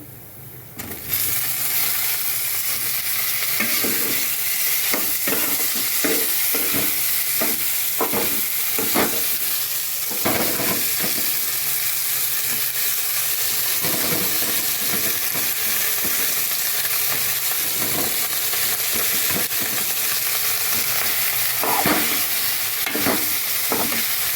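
Food fries in a hot pan, a constant sizzle broken by a series of rhythmic scraping stirs, clustered early and again later, close and fairly loud with no voices.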